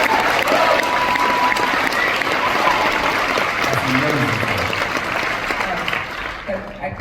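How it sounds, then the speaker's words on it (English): An audience at the Sundance Film Festival world premiere of a film applauds with dense, sustained clapping that slowly fades, while a voice speaks over it near the end. "so he also deserves a round of applause for that as well"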